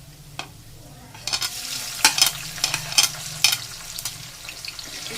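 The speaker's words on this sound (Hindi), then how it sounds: "अब मैं इसमें थोड़े से टमाटर डालूंगी।" Tomatoes go into onions frying in mustard oil in a pan, bringing a steady sizzle with a handful of sharp bursts and stirring scrapes, close and fairly loud.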